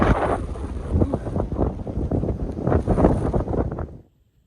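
Gusty wind on the Appalachian Trail buffets the microphone in heavy, rumbling bursts for several seconds before abruptly cutting out.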